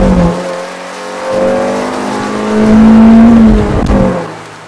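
A 2000 Honda Civic SiR's VTEC engine revs loudly and close, its tone climbing and falling in two swells, with a strong throaty drone that rises in pitch before easing back, and no talk.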